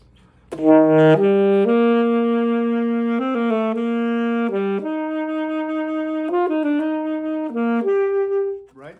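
A classical saxophone plays a short melodic phrase with a quick turn ornament, notes fluttering around a central pitch before settling, clear and close.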